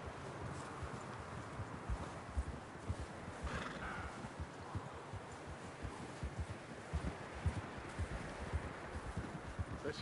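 Horses in Red Dead Redemption 2 clip-clop at a steady walking rhythm, with a brief snort or whinny midway, moderately close against a soft outdoor background.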